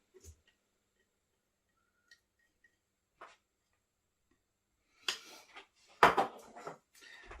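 Sugar and butter are stirred together in a big bowl for a Christmas fruit cake, giving a few scattered clinks and scrapes after near silence, then a louder burst of clattering bowl and utensil sounds toward the end.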